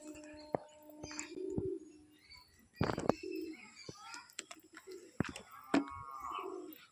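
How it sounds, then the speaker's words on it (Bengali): Pigeons coo inside a coop in a series of low, throaty calls close by, with a few higher bird chirps and brief rustles scattered between them. "খোপের ভিতর কিছু পায়রা রয়েছে, তোমাদের আমি দেখিয়ে দিচ্ছি, ডাকাডাকি করছে"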